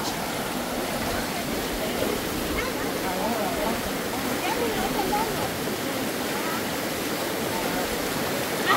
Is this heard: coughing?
no